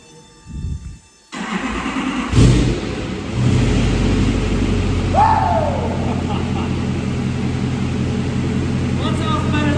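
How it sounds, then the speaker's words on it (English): A Duramax diesel truck engine cranks, catches and settles into a loud, steady rumble up close, with a brief rising rev partway through and a voice briefly heard. "What sounds better than a Duramax?"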